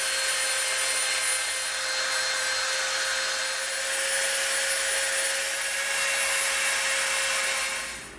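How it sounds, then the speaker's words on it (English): A Dremel rotary tool grinds EVA foam for an axe prop with a continuous high-pitched whine, steady and close, then tapers off at the end. No one talks. "now we're going to Dremel the heck out of this thing"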